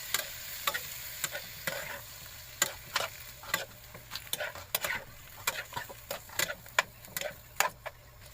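Shrimp and squid being stirred in a sizzling pan, a utensil tapping and scraping the metal in quick, irregular clicks over a steady frying hiss, close and fairly loud.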